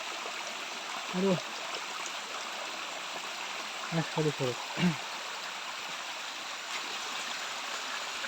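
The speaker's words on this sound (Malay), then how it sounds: "Inilah air sungai di sini." River water near the Tak Abek waterfall rushes in a steady, broad hiss that fills the background, while someone speaks a few brief words over it.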